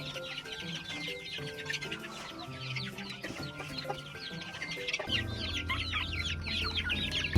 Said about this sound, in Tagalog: At ito naman po ang ating mga Rhode Island Red breeders mga pre.